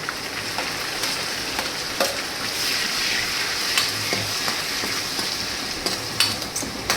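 Ginger, chilies and tomatoes sauté in a pan for Gujarati khichdi and palak bhaji, a steady close sizzle and fry with scattered stirring clicks and scrapes and no talk.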